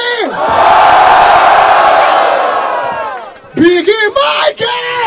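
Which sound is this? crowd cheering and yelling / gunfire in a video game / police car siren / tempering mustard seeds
crowd cheering and yelling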